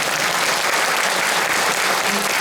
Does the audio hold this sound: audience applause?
yes